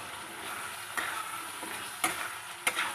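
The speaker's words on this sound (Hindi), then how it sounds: "भजा जाइथिबा आलू टाकू" Potato pieces frying in masala oil for an egg curry, a steady sizzle broken by three or four scraping stirs of a spoon in the pan, with no one speaking.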